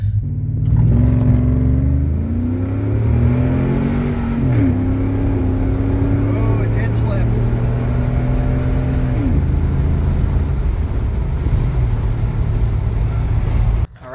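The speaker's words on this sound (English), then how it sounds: "here we go with a pull from a dead stop with a 50 shot of nitrous" A 2005 Silverado pickup on slicks, fitted with a 50-shot nitrous system, launches hard from a dead stop. The loud engine note climbs steadily, drops sharply at each gear change and climbs again, with no talking.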